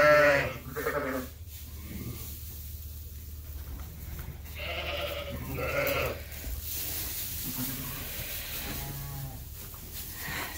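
Dorset sheep and their lambs bleat in a barn, several loud, wavering calls from different animals, some close and some farther back, over a constant low hum.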